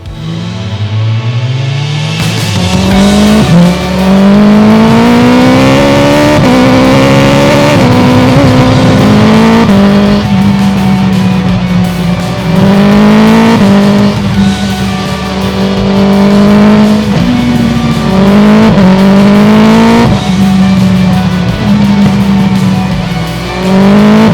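A BMW S 1000 R motorcycle engine revs hard while riding, loud and close, rising through the gears in repeated climbing pitch sweeps with shifts between them, continuous for the whole stretch.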